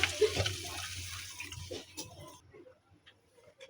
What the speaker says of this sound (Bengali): পানি দিয়ে দিব পরিমাণ মতো